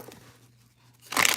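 Tarot cards being shuffled: a short, crisp riffling burst near the end, after near silence.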